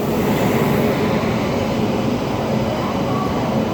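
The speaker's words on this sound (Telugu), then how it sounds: "మన అమరావతి ఎక్స్ప్రెస్ ట్రైన్ అయితే స్లోగా ప్లాట్ఫామ్లోకి అయితే తీసుకొస్తున్నాడు ప్లాట్ఫామ్ నెంబర్ 5 మీదకి" Amaravati Express pulled slowly into platform 5 by a WAP-7 electric locomotive, a loud, continuous rumbling roar of wheels and carriages, close and steady with no pauses.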